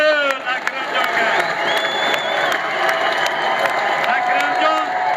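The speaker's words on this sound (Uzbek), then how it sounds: "Bitta qarsak bo'lsin Akramjonga." A crowd at a Navruz village holiday celebration applauds and cheers, with steady clapping and shouts, some children's voices, and people talking over it throughout.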